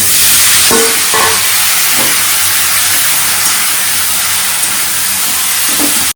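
Potatoes and cauliflower fry in a pan for a fish curry, giving a steady, close hissing sizzle with a few soft stirring scrapes and no talk.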